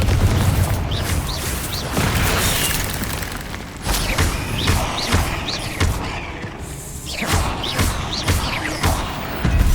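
Repeated booming blasts from the Confringo fire spell in Hogwarts Legacy, several loud crashing explosions in quick succession with shattering debris and little talk.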